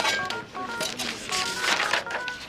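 A telephone rings in a TV medical drama scene, its repeated electronic trill sounding at moderate loudness over busy background noise and clattering.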